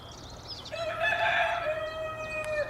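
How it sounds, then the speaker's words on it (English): A rooster crows nearby in a long, drawn-out call while chickens cluck faintly around it, outdoors beside an old railway line. "The chickens are going to go now."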